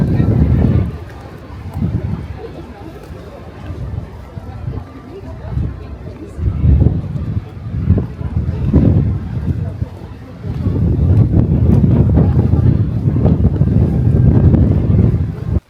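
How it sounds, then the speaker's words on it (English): Gusty wind buffets a microphone on a misty volcano at Hakone, with loud, low rumbling surges that swell and fade throughout, while a person talks. "The only thing you will see is the wind and the mist."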